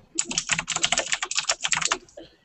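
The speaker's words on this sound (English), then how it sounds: "but Joel was just typing" Rapid typing on a computer keyboard, a dense run of crisp clicking keystrokes with uneven rhythm, close and clear, ending in a brief pause with no talking.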